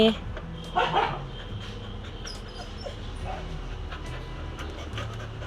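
A dog barks sharply a couple of times near the start, then whimpers and pants amid steady background noise and faint talk.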